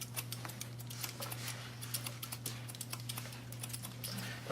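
Scissors snip men's hair over a comb in a barbering session, a steady run of quick, close, crisp clicks with no talking, over a low constant hum.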